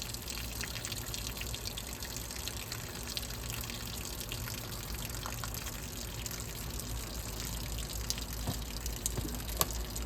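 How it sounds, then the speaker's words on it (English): Diluted coil cleaner mixed with water sprayed onto the coil of a GE Superthrust air conditioner, a steady, continuous hiss of spray and running water close by for the whole stretch, with no talking. "We're going to spray out the inside of the coil."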